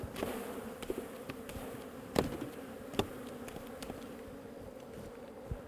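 A low, continuous hum of many bees buzzing close by, with occasional soft clicks and knocks over the drone.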